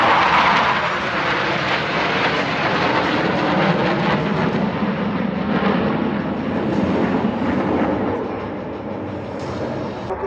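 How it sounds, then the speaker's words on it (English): Blue Angels jet aircraft flying at a US Navy flight demonstration at Seymour Johnson Air Force Base, a loud sustained roar that holds steady then eases slightly near the end, no talking. "Very shortly, all 4 aircraft will be approaching for the first of the diamond maneuvers."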